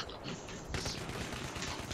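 Gunfire from Battlefield 3, pistol shots in an online match, dense and continuous with crackling bursts and mechanical clatter filling the whole moment.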